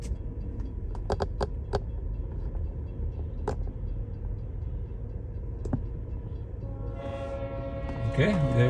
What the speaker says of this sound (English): I think it's just some of the train cars